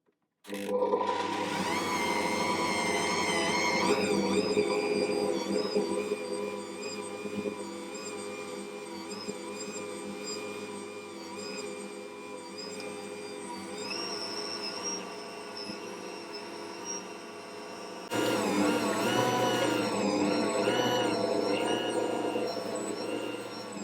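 An Ankarsrum stand mixer kneads enriched tangzhong bread dough in a long, steady mechanical whir with tonal motor hum. A louder burst near the end suggests a speed change, and there is no talk.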